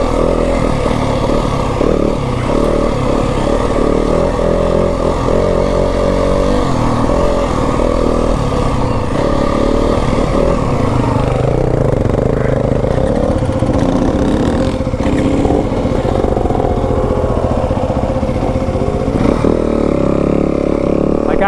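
A 2026 Yamaha WR 250F dirt bike on a single-track trail at Kelly Canyon runs with a loud, close engine drone that rises and falls with throttle as it rides slowly, with possible muffled talk beneath.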